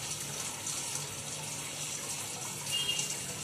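Water runs from a siphon pipe into a fish bowl in a steady, continuous stream with an even gushing hiss, close by and alone.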